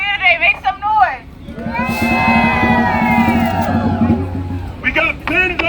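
An outdoor protest crowd outside City Hall erupts in loud whoops and shouts for a few seconds, with a speaker's amplified voice before and after the roar.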